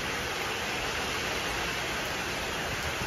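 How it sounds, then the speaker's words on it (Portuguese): Steady, dense hiss of heavy rain pouring down nearby, continuous and even throughout with no voices. "Olha que chuva mais abençoada."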